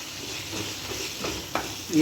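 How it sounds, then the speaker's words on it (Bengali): A cornflour mixture being stirred into dragon chicken in a pan gives a soft, close sizzle with quick utensil scrapes, ending in a brief louder stir. "আর কর্নফ্লাওয়ারটা দেওয়ার সঙ্গে সঙ্গেই কিন্তু নাড়তে হবে, নাহলে কিন্তু দলা পেকে যাবে।"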